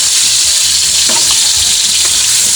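Onions hit hot oil in a frying pan, producing a loud, dense, continuous sizzle heard up close with no talking.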